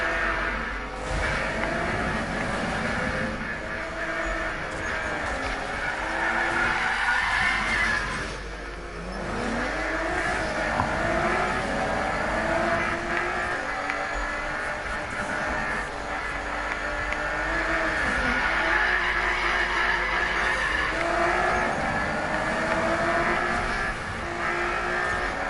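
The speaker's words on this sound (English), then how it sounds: "Hear the engine sounds. Take note of the engine sounds." A car engine in the racing game Need for Speed 2015 revs and howls through repeated acceleration and gear shifts, with drifting tire squeal mixed in, loud and continuous.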